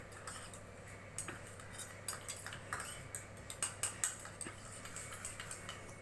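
A spoon clinking and scraping against a vessel while stirring juice into ajwain-leaf rasam, quick irregular metallic taps close by over a quiet background, no talk.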